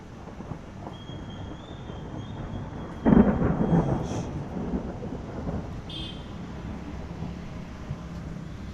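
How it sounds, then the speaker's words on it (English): A thunderclap cracks and rolls for a couple of seconds midway through a lightning storm, loud and fairly near, then fades into a steady low rumble of rain and wind with faint intermittent tones; no one speaks. "Just one last, so now it started raining."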